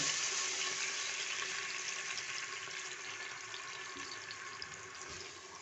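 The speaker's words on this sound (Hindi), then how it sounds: "तेल गरम है, अब ये सब चीज़ें इसमें जाएँ।" Spice mixture blended into a little water poured into hot oil in a cooking pot while making masoor dal khichdi, giving a loud, steady hiss and sizzle that fades slightly over several seconds, with no talking.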